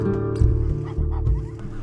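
A flock of geese in Iraq honks nearby, a short burst of loud, overlapping nasal calls with steady low rumbling underneath.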